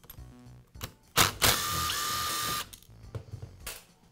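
A power driver whirs in a short, loud burst to back out the screws holding the inner gearbox bearing of a Skil circular saw, with clicks and handling noises before and after.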